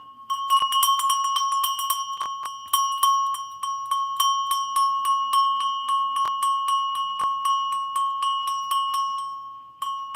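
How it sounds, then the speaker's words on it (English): A bell is rung over and over in a steady rhythm, each bright metallic strike ringing on and overlapping the next, loud and close with no other sounds. "When you go ring the bell, you bring everything"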